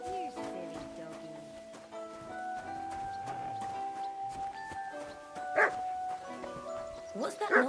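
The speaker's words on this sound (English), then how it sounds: "You silly doggy." Dog barking in the medieval game Kingdom Come: Deliverance II, short yips and barks over a bed of tonal music, with a louder burst near the end and a voice talking alongside.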